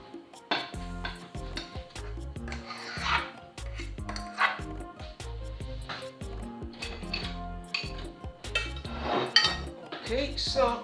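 Sauce for oven-baked macaroni and cheese is stirred in a metal pot, with repeated scraping and clinking of a utensil against the pot. Faint sizzling and voice-like sounds sit underneath.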